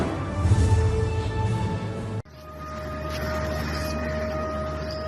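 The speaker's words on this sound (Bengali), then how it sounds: "বৃহস্পতিবার সকাল হঠাৎই সাইরেনের শব্দে কেঁপে ওঠে লাহোরের ওয়ালটন রোড এলাকা" An air raid siren sounds over Lahore's Walton Road area with a loud, steady tone for about two seconds, then cuts off sharply. A fainter continuing tone and background hum follow.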